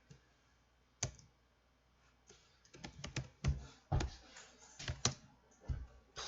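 Keys clack on a computer keyboard in a quiet room, a single tap first, then irregular bursts of close typing building into faster runs of clicks.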